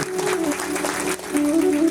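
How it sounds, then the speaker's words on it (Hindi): Brief applause from an audience at a Bhagwat Katha religious discourse, a steady patter of clapping with a faint tonal hum underneath. "एक बार ताली बजा के स्वागत करो भाई।"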